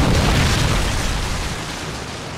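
A Predator missile explosion in Call of Duty Modern Warfare 2: one heavy, broadband boom that rolls and slowly fades over a couple of seconds, loud and close.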